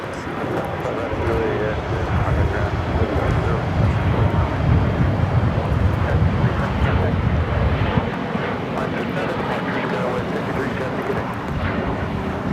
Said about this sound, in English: The 787-9 Dreamliner now making its way over to Terminal 7